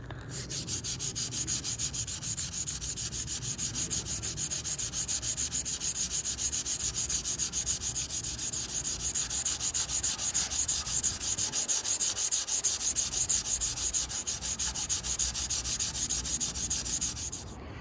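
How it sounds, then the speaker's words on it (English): Bondo body filler on a restored truck being hand-sanded with 120 grit sandpaper: a steady, close rasping of continuous strokes that runs almost unbroken for the whole stretch, with no talking. "So we sanded this down with 120 grit."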